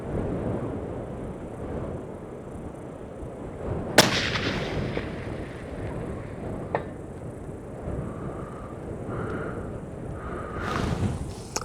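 A single sharp hunting rifle shot cracks outdoors at a ranch shooting range, loud and close, followed by a lingering rumble and a few faint distant thuds.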